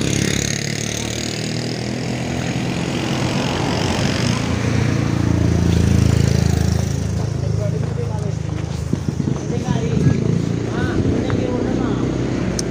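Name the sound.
generator set (genset) running for sound system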